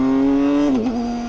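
BMW K 1600 GTL six-cylinder touring motorcycle engine holding a steady loud drone, then its pitch dips briefly and recovers as it pulls, heard up close without talk.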